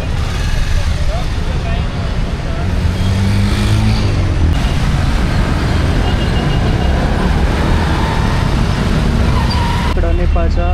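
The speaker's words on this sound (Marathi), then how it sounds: "पूर्ण लांबपर्यंत ट्रॅफिक आहे." Heavy, stalled road traffic in Nepal makes a loud, constant roar of idling engines and rumbling vehicles, close and continuous, with a voice talking over it.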